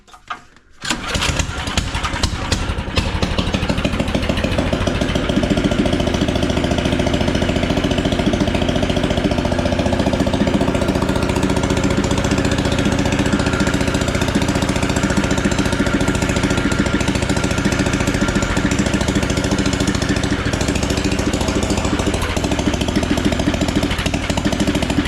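A swapped engine in a John Deere ATM 600 starts and then runs steadily and loudly, with a continuous rough, knocking drone close by.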